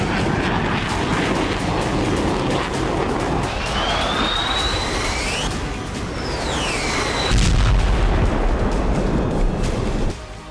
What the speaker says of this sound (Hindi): यूक्रेन के आसमान पर गरजेंगे अमेरिका के सिंगल जेट इंजन वाले F-16 फाइटर जेट।